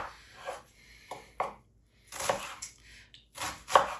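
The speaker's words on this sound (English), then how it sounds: "I'm gonna start off by dicing up our onion" A knife chops through an onion on a cutting board for a vegan pasta dish, giving a few scattered, close knocks in short bursts with quiet gaps between them.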